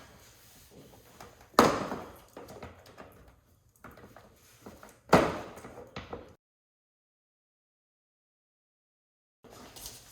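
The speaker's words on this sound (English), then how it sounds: "You can get a set of pliers under each clip and just kind of pry up, and it'll pull those clips out" Pliers prying plastic wiring harness clips loose on a diesel Jeep Gladiator: two sharp pops or snaps a few seconds apart with scraping and handling noises between, close by, followed by silence.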